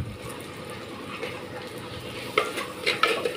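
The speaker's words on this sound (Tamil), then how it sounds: "ஒரு நிமிஷம் நல்லா வதங்கட்டும்." Tomatoes sauté in a pan for a greens and lentil dish: a low sizzle runs under several louder scraping and stirring strokes toward the end, close and without speech.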